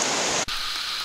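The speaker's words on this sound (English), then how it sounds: "it's really raining now" Heavy rain pours down outdoors, a loud dense hiss of drops close by that cuts out for an instant and then continues steadily.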